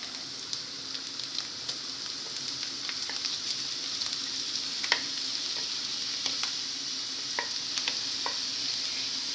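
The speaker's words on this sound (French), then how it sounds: "Maintenant, l'oignon est bien cuit, on va ajouter de la viande hachée." Minced meat and cooked onion fry together in a pan, giving a steady close sizzle with scattered pops and crackles throughout.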